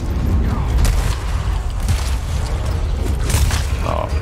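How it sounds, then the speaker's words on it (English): Shots from a co-op shooter game, GTFO, cut through a dense, rumbling mix of game noise, with several sharp bursts in quick succession, quite loud and close. "Someone shot."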